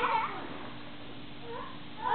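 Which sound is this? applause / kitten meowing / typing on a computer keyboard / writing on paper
kitten meowing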